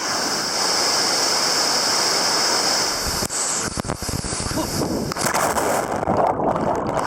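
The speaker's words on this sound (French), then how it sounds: "il y a des cascades, là il y en a une sympa" Cascading waterfall at Roberto Barrios in Chiapas, a steady loud roar of falling water close by, with broadband wind-like rush that shifts and gusts in the second half.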